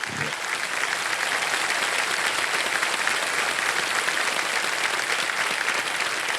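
Studio audience on a Hindi TV quiz show (KBC Season 17) applauding steadily and loudly for the full duration, a dense even wash of clapping with no talk over it.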